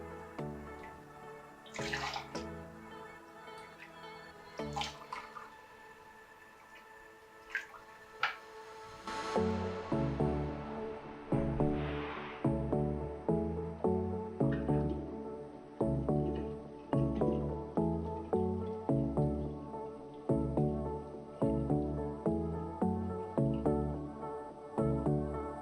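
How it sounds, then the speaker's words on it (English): Apple juice poured into mason jars, a steady liquid trickle followed by a long run of rhythmic glugging and splashing pulses, close and fairly loud with no talking. "we'll just portion out some of the apple juice"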